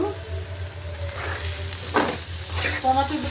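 Onions frying in a pan while being stirred, a steady close sizzle with a few louder scraping stir bursts toward the end, no talk.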